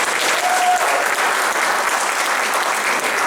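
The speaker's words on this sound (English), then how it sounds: "Let's give our panel participants another round of applause." Forum audience giving panel participants a round of applause, loud, dense and steady clapping filling the whole stretch without talk.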